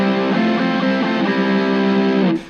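Electric guitar tone through a simulated Vox AC30 amp with treble booster, a thick, saturated distorted chord ringing loud and sustained before cutting off abruptly.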